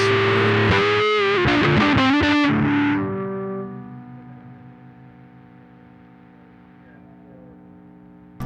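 Electric guitar through a fuzz distortion pedal with the tone turned fully to treble, a few loud, buzzy strummed chords that ring out and slowly decay into a sustained fading drone.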